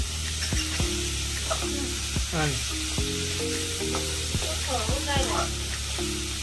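Kathol, mixed legumes, sizzles as it is tempered in a pan in a village kitchen, producing a loud, steady frying hiss with stirring, under background music.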